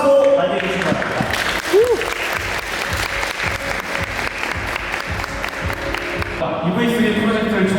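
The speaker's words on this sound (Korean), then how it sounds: "큰 박수로 맞이해주시기 바랍니다." An audience at the Kia EV3 Tech Day claps in sustained, even applause to welcome a presenter, with a voice speaking faintly through it.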